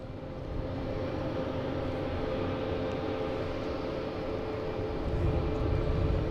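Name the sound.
Delta Airbus A220 flight from Austin arriving at Boston Logan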